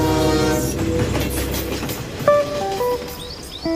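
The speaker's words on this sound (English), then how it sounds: "engineers are testing an experimental train that all but eliminates track friction." A train rolls past with rumbling wheels, and a horn then sounds in several short, stepped blasts. The source is an experimental train being tested in Germany.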